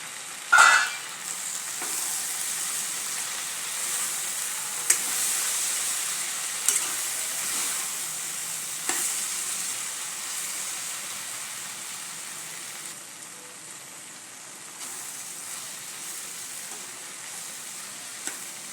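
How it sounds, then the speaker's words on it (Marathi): Okra (bhendi) fries uncovered in an open pan with a continuous, even sizzle and hiss, broken by a few soft clicks of a spatula, close and steady with no talking. "ही भेंडीची भाजी ना आता झाकण न ठेवता शिजून घ्यायची"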